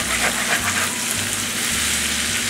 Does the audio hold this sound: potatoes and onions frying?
yes